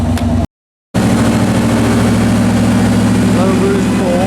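Turbocharged 5.3 V8 with a 78mm turbo running on a Mustang dyno, a loud steady engine drone that drops out briefly near the start and then resumes, holding a constant idle-like roar.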